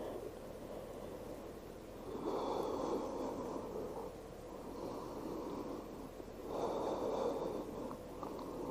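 Slow, deep breaths during a yoga flow, two long airy exhales swelling and fading a few seconds apart, quiet and close with no talk.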